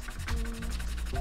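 Brisk back-and-forth brush scrubbing on the slide face of a PSA Dagger pistol, close and steady, with rapid repeated strokes and no talking.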